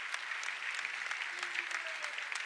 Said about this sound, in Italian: Un applauso che è un grazie